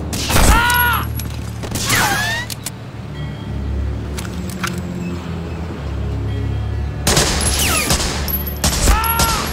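Chaotic gunfire from all men shooting at once in Medal of Honor Frontline, with sharp loud shots clustered at the start and end and rumbling mechanical noise between, plus a brief shouted voice.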